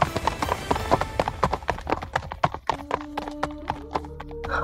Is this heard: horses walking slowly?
yes